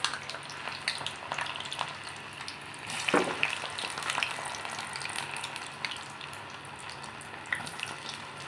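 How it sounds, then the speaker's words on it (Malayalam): Plantain (kaya) pieces frying in hot oil for an Onam meal, a steady close sizzle with bubbling crackle and a brief stirring scrape midway, no talking. "നമ്മുടെ കായ നന്നായിട്ട് ഫ്രൈ ആയിട്ട് വന്നിട്ടുണ്ട്"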